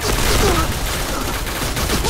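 Continuous loud video game gunfire, rapid bursts blending into a dense barrage that fills the whole stretch, with a voice faintly underneath.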